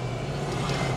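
Road traffic outside a stopped 2025 BMW X3 in Malaysia, a steady low rumble of passing cars and motorcycles with a constant engine drone throughout.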